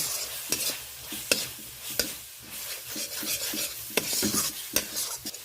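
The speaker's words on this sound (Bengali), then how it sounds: "পেঁয়াজ টমেটোর সাথে গুঁড়ো মশলাগুলো দিয়ে বেশ কয়েক সেকেন্ড আমি ভালো করে কষিয়ে নিলাম।" Onion and tomato cook with ground coriander, cumin and green chilies in a pan, spatula strokes scraping at a steady rhythm over a constant close sizzle.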